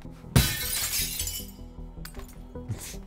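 Glass shattering in the voxel physics game Teardown, with one loud crash that breaks into a tinkling spray of shards, then smaller clinks fading out over a low game hum.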